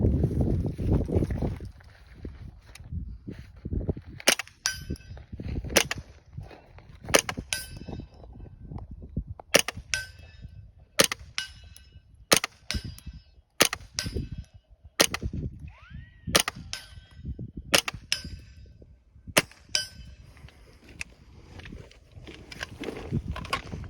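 Sharp shots through a low-cost suppressor pop in an irregular series, each followed by a faint metallic target strike, spread over a steady outdoor background.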